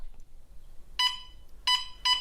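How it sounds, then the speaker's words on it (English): A plug-in home gas detector bought online sounds its alarm, sharp electronic beeps arriving in three bursts, one then a pair, after a brief quiet stretch. "an alarm sounds warning you to get out"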